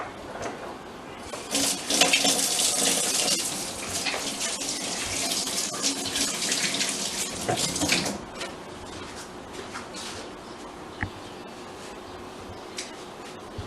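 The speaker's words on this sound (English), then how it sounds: "the first thing you have to do is always wash your hands" Steady running water from a kitchen tap during handwashing before cooking, a continuous broadband rush that is louder early and eases off after about eight seconds, with no talk.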